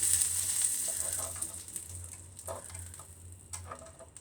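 A soldering iron melts solder on a model train undercarriage frame, giving a close, hissing sizzle that is strongest at first and then fades into softer crackles and small ticks.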